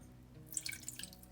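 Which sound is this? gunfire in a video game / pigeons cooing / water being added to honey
water being added to honey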